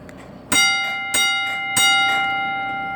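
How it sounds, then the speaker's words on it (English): A loud, close railroad crossing bell from a model crossing kit rings three times indoors in a slow, steady rhythm, each metallic clang ringing out and overlapping the next. "I'm inside, so this bell's going to be loud."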